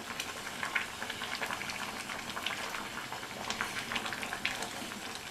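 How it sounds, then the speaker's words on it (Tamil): A pot of spinach sambar with dal and masala boils on the stove, bubbling and popping softly and steadily at close range with no voices. "இந்த கீரை இந்த பருப்பு இந்த மசாலாவோடு சேர்ந்து வேகட்டும்"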